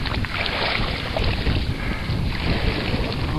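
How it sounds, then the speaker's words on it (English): Wind blows across an open back pond at night during a wade out for pike fishing, buffeting the microphone with a loud, steady, rumbling rush that continues without a break. "It's a bit windy tonight"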